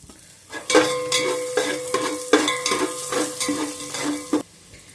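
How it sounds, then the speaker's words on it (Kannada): Chopped onion hits hot oil in a pan and fries with a bright, crackling sizzle, broken by repeated clinks and scrapes of a utensil stirring against the pan. "ಕಟ್ ಮಾಡಿರೋ ಒಂದು ಆನಿಯನ್ ಹಾಕೋಣ."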